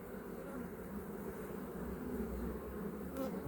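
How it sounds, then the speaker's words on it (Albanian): Dense swarm of honeybees covering a comb, a steady close hum filling the whole stretch without pause. "është mbuluar nga bletët,"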